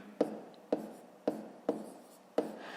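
Numbers written by hand during a fifth-grade math exercise on paper: five sharp pen taps and short scratchy strokes in an even rhythm, close and quiet, no talking.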